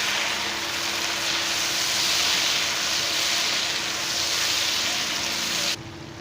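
Chopped tomatoes frying with onions in a pan for kaleji liver masala, a steady broadband sizzle running evenly near the pan throughout, cutting off abruptly just before the end.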